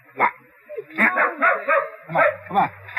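A dog barks and yips repeatedly at close range in short, uneven bursts, sometimes whining, with a low hum beneath.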